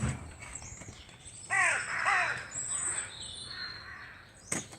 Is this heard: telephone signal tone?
no